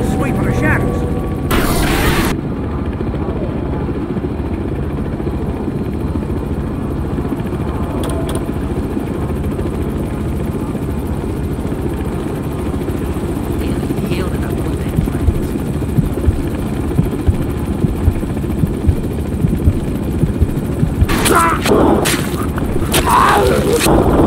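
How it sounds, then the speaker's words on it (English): Loud, continuous helicopter rotor thumping overhead in the video game Manhunt 2, a steady low drone from a chopper circling on a sweep, with a few sharp bursts near the start and end. "The chopper will do a circle sweep of the shadows."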